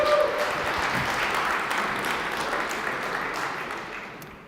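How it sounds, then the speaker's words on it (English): Audience applause at a startup pitch battle for Squad Robotics, a floor cleaning machine maker, sounds as a broad, steady wash of clapping across a large hall that slowly fades toward the end. "a huge warm round of applause for Squad Robotics"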